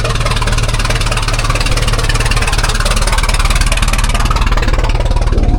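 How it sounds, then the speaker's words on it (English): A vintage La France fire engine chugs loudly and steadily at idle, its deep rhythmic firing pulses continuing throughout with no voices. "Oh, there's a La France fire engine."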